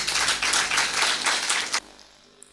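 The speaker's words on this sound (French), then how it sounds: "On peut s'applaudir pour ça." An audience applauds in a short burst of crowded clapping that stops abruptly, leaving a quiet room with faint rustle afterward.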